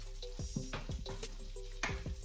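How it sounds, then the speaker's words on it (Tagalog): Butter and oil frying in a home kitchen pan, a steady close sizzle with scattered crackles and sharper pops, alongside some clinks of a utensil stirring. "Ipa-melt lang natin yung lahat ng oil, yung butter, at then i-fry natin"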